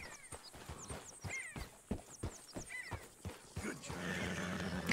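A horse in Red Dead Redemption 2 whinnies several times over a run of steady hoof clops, close and fairly loud, before a denser wash of rustling game ambience takes over near the end; faint speech may sit underneath.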